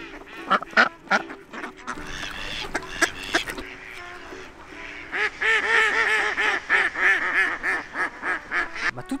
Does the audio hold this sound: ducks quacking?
yes